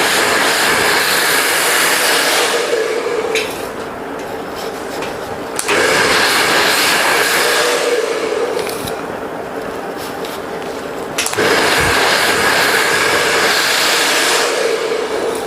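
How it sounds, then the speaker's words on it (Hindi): A hair dryer blow-drying hair for an in-turn style on a razor or feather haircut: a loud, steady close-up roar that dips and swells as the airflow shifts position, with no voices. "उसके बाद अब आगे की तरफ से हम ड्रायर करेंगे।"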